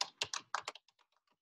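Typing on a computer keyboard during a cardiology lecture: a quick burst of about six sharp, close key clicks, then a few fainter taps trailing off.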